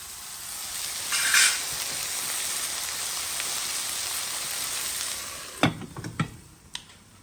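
Tomatoes cooking gently in a covered pot for a Réunion rougail, a steady close hiss and soft bubbling sizzle throughout, ending with a few sharp clinks and knocks of utensils or lid.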